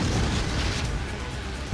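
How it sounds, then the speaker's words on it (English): Cannon fire from a pirate ship battle in Paper Mario: The Thousand-Year Door, a loud, sustained, rumbling blast that fills the clip evenly with no talk. "You fire cannons here without my permission."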